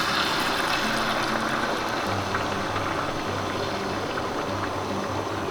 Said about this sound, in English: Now these eggs are going to cool that pan down right away.